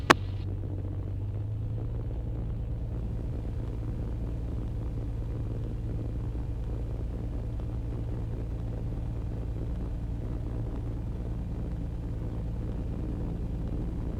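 The engine of a small experimental aircraft drones steadily as the plane takes off from runway 17 at Somerton. A brief click at the start gives way to a constant, fairly loud rumble with no talk over it.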